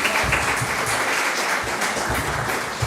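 A congregation at a church service claps in a sustained round of applause, dense and fairly loud, holding steady from start to finish.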